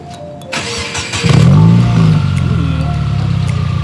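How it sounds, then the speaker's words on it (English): A car engine cranks briefly, catches and roars to life, then settles into a steady loud rumble close by. "We're gonna have Ralph here start up his CB real quick."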